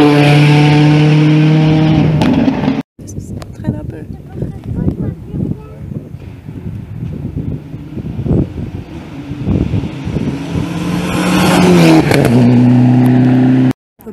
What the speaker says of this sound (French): C'est le moteur. Bah putain le moteur.